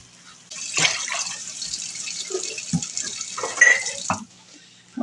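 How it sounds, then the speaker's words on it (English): Water pours steadily into a cooking pot for broth-based soup, a continuous splashing rush with a few brief dips and surges, close and moderately loud, then stopping near the end. "now I am going to start adding my water."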